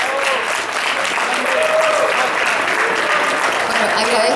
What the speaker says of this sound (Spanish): Por favor, un aplauso para recibir a nuestra invitada.